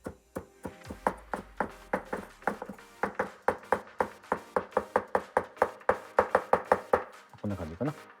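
Capers are chopped finely with a knife on a cutting board, giving a rapid run of sharp, even taps that ends with a brief scrape.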